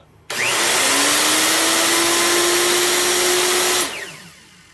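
A Makita 3612 plunge router runs at full speed as a loud, steady whine, then its dynamic brake kills most of the speed almost instantly and the tone drops away as the motor winds down.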